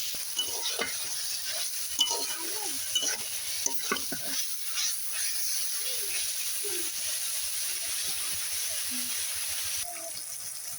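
Water lily stems frying with shrimp in a pan make a soft steady sizzle and hiss with intermittent scraping and stirring, heard close and fairly quiet.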